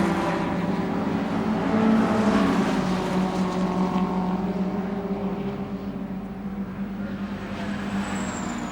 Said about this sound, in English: The power of that Lotus engine in the Sunbeam obviously proving the point and stretching out his lead again as they head down the Revett straight.